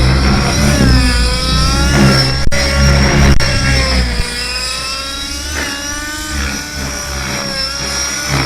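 A model airplane engine runs continuously, a loud, buzzing drone that rises and dips slightly in pitch, with no talk over it.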